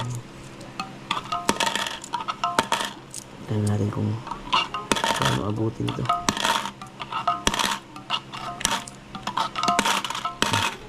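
Loose peso coins clink and drop onto a surface in repeated metallic bursts, loud and close, while a person talks over them.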